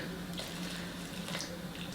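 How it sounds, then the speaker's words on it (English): Milk poured into a pot of half-cooked Kerala payasam for an Onam sadhya gives a steady, continuous liquid hiss throughout, close and fairly soft, with no talking. "So I'm going to add some more milk to it."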